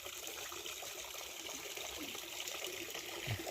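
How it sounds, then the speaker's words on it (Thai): A forest waterfall gives a steady, unbroken rushing roar of falling water that holds at an even level throughout, with no voices. "นี่น้ำตก"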